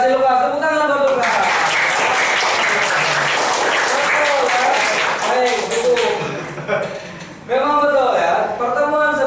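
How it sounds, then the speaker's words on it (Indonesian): Classroom applause for a student during a history lesson, loud, close clapping from the class under a teacher's voice, dipping briefly before the talk resumes over the last of the claps. "Tepuk tangan buat Lukas."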